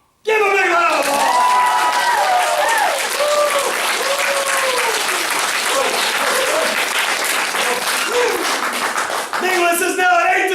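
Loud sustained applause and clapping from a crowd at a martial arts belt ceremony, with voices shouting and cheering over it throughout.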